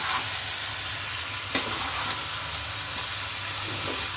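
Mutton with meat masala and ground pepper is stirred and fried in a pan, a steady low sizzle with occasional scrapes and clinks of the spoon, fairly quiet and without talk.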